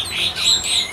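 A captive-kept thrush nightingale sings loud, close, clear whistled phrases in rising and falling bursts, with no voices over it.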